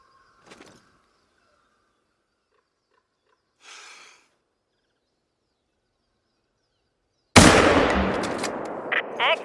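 A single rifle shot fired at a bullseye target in theHunter: Call of the Wild lands late as a loud, sharp broadband crack with a ringing tail, after two faint, brief earlier sounds and long stretches of quiet.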